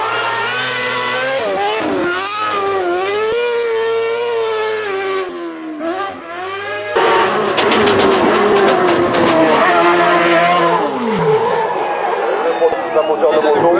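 A car skids and slides on a slippery road, a loud wavering tonal squeal that bends up and down over a steady engine roar, with a harsher burst near the end; people talk over it.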